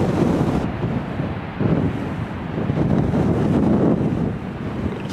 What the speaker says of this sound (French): Là le vent commence à se lever